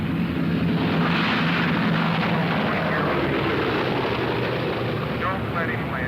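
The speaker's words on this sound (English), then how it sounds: "the Boeing B-17 Flying Fortress trying to make it back in, trailing smoke" A Boeing B-17 Flying Fortress trailing smoke drones steadily overhead with one landing gear down, a loud continuous low engine roar filling the whole stretch with voices faintly underneath.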